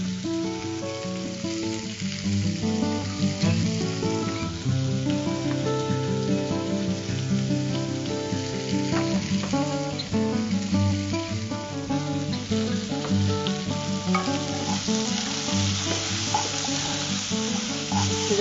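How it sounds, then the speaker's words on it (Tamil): Okra frying in a pan with turmeric and salt gives a steady, continuous sizzle that runs the whole time beneath prominent background music, with no talking. "இது வறுபடட்டும்."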